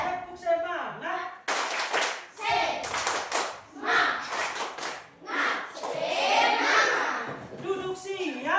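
Classroom children clapping in short rhythmic bursts, loud and close, alternating with a teacher's chanted cues and bright spoken calls between the clap patterns.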